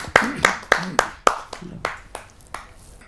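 A few audience members at a televised Hindi poetry gathering clap as a poet is invited to the stage; sparse, slow, distinct claps spaced about a third of a second apart, fading toward the end.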